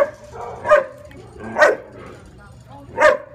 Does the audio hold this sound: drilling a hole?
no